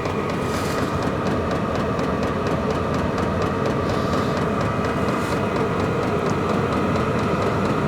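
A diesel heater runs hot, with its fuel pump ticking rapidly over the steady whir of fast-spinning fans, a continuous close mechanical drone throughout.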